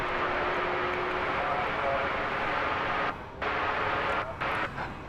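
MD-11 cargo jet at DFW Airport at night, its engines giving a steady broadband roar heard from a distance, loud and continuous with a couple of brief dips near the end.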